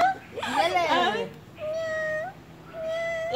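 A person imitates a cat, giving a few drawn-out, wavering meows with pauses between them, close and clear, with some speech mixed in.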